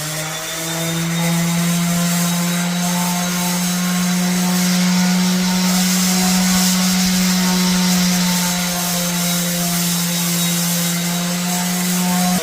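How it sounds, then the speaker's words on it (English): An orbital sander fitted with 120 grit sandpaper works across a floor being prepared for acid stain, a steady loud motor drone with a strong low hum running unbroken and alone. "I'm gonna try and with 120 grit on this orbital sander."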